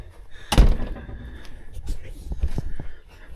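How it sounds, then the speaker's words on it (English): The cab door of a John Deere 4230 tractor shuts with one solid, close thunk, and softer clunks and handling noises follow while someone talks quietly in the background. "Now the door works just like it should."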